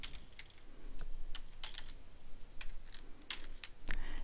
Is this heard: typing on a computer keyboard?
yes